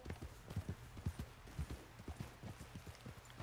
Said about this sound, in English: So Maybe I need to get off my horse.